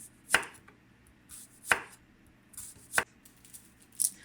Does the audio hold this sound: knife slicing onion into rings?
yes